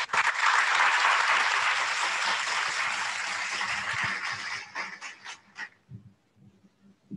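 Round of applause at a virtual autism charity event, dense clapping held steady for about five seconds, then thinning into scattered claps and fading to quiet, with no talking over it.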